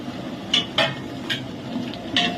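Coconut masala with dry grated coconut being stirred and sautéed in oil in a pot, giving a few sharp spoon-on-metal clinks spaced over a soft, steady background hiss.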